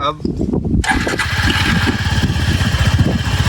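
A Suzuki Gixxer 250 cc motorcycle engine cranks and catches, then settles into a loud, even idle chugging close by.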